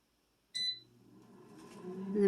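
An air fryer's control panel gives one sharp beep when started, then a low fan hum swells steadily louder close by.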